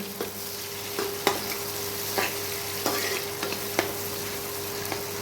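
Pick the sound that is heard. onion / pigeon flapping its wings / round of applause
onion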